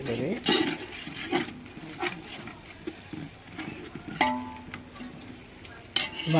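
Curry leaves fried in a pan: an irregular sizzle broken by spoon scrapes and clinks against the metal, the loud bursts rising and fading throughout.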